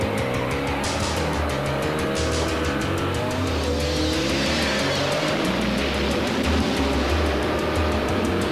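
Cartoon car tires screeching amid loud racing engine noise, a continuous dense skid and roar lasting several seconds with no voices.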